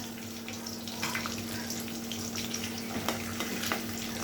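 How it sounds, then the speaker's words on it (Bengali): Fish heads frying in oil in a pan, heard as a soft, even, fairly faint sizzle with a few light clicks and a low steady hum underneath. "আমার মাছ ভাজা হয়ে গেছে মাথাটা ভাজা হয়ে গেছে"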